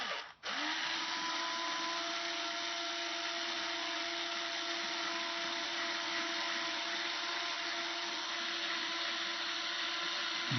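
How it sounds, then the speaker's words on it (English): A power drill bores straight through a Kala 8-string baritone ukulele body, starting after a brief pause and then running as a loud, steady whine close by, holding the same pitch for about ten seconds. "and drill a hole"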